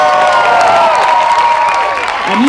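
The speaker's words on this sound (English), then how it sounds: "feel free to give them a huge round of applause because they can handle it" An audience applauding performers as they come up to a stage, a dense sustained clapping with crowd cheering and raised voices mixed in, loud and continuous throughout.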